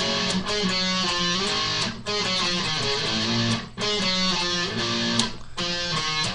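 Distorted electric guitar plays the repeating intro riff of a song, chords and notes with brief gaps between phrases, loud and close with no voices.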